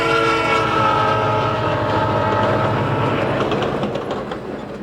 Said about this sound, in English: A passenger train is ready to roll on each end of the railroad